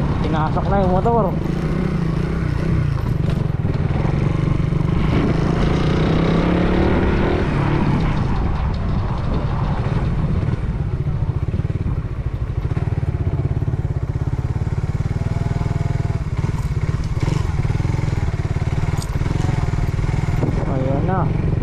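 A Rusi Raider 150 motorcycle engine idles and revs nearby, its throbbing drone rising and falling over about twenty seconds, with a few voices talking.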